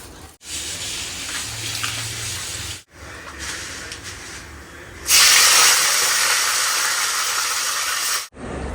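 Raw prawns being washed under a running kitchen tap: a softer watery rattle first, then a loud, steady rushing stream for about three seconds before it cuts off.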